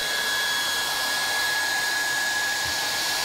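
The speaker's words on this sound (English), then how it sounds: "feed the rod through the speed nozzle, slowly bringing the gun down the miter and onto a spatula placed at the bottom" A hot air welding gun blows steadily as a vinyl floor rod is fed through its speed nozzle down a seam, giving a constant close hissing whoosh with a faint high whine and no voices.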